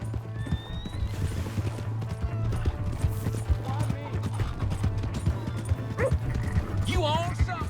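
Horse hooves clop rhythmically in Red Dead Redemption 2, moderately close under excited shouting voices, with a brief horse whinny and other animal noises mixed in near the end.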